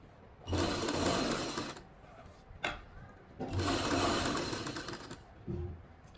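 A sewing machine stitches a back neckline in two fast, whirring bursts, each lasting a second or two. Brief clicks of handling the machine or cloth fall between and after the bursts.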